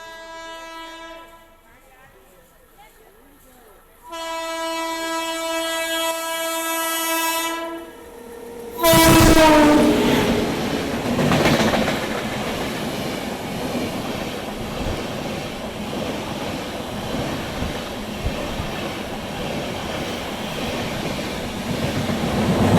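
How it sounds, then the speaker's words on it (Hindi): The Kalka Shatabdi Express passes near an Indian Railways line, sounding loud sustained horn blasts followed by a close, heavy rush of rolling wagons and clattering wheels that continues steadily. "बाकी ये ओवरटेक कर गई कालका शताब्दी, और पीछे से भी फरक्का एक्सप्रेस जो है वो आ रही है।"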